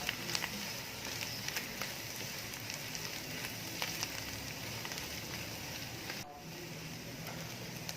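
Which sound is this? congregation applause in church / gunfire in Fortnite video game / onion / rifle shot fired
onion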